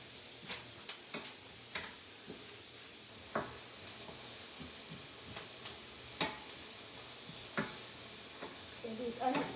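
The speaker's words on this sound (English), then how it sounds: "And these onions sauteed" Onions and green pepper sautéing in a pan, a faint steady sizzle with scattered clicks and taps of stirring, close and quiet.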